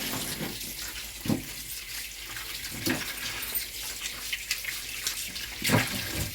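Running tap water pours over grated tapioca being rinsed, a steady close splashing stream broken by periodic louder gushes as the roots are washed by hand.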